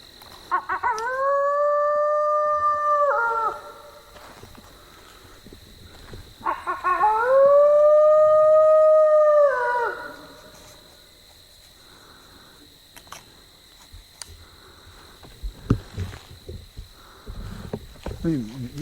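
A person mimics a coyote with two long wavering howl calls, each a few seconds long, outdoors over a steady high insect chorus, followed by quieter rustling and scattered knocks.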